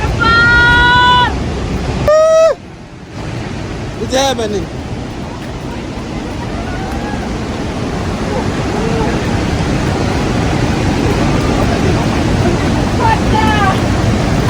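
Ruacana waterfall in Namibia roars as a steady broadband rush that fills the clip from start to end, with excited voices and brief whistle-like calls breaking in over the constant water noise.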